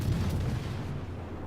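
Naval gunfire from warships in World of Warships, a deep rumbling boom rolling out and fading over about a second, heavy low end with no voices.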